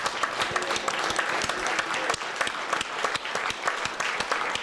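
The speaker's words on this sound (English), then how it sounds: "Can we give them a big round of applause?" An audience applauds first responders and law enforcement at a live sports show taping, a steady patter of many hands clapping at moderate distance, with some voices mixed in.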